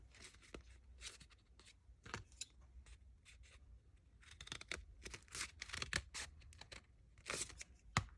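Scissors cut up the center of a paper template, quiet close snips and rustles in irregular bursts, with soft handling noise between cuts.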